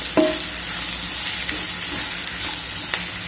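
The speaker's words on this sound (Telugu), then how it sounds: "ఆ పౌడర్ వేసుకొని మంచిగా ఇలాగే దీన్ని కలిపేసుకొని" Ivy gourd pieces are tossed with ground masala powder in a hot pan, giving a loud continuous frying sizzle broken by a few spatula scrapes and taps.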